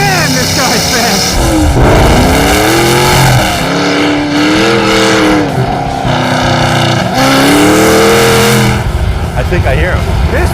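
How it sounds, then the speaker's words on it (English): A small, fast V8 hot rod, like a go-kart with a V8 in front, roars loudly as the engine revs up and down through repeated accelerations, with excited voices over it. "It's like a little go-kart with a V8 in the front."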